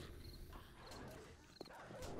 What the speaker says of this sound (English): Where's the dog at?